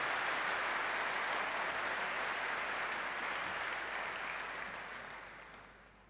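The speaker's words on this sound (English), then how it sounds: "Please give him a round of applause." An audience at a business conference on the SAP and Mendix partnership claps in sustained applause that fades away over the last couple of seconds.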